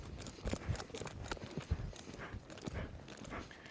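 Horse hooves walking on ground during a campdraft session working a cow, with irregular clip-clop footfalls close by and some soft thuds and rustle between the steps.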